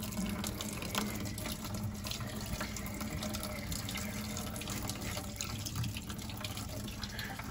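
Water running out of a hydronic heating system drain, a low, steady trickling wash that continues evenly without pause, faint and alone.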